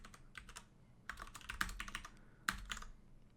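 Fast, light keystrokes on a computer keyboard in uneven bursts with a few harder key hits, quiet and close, no voices.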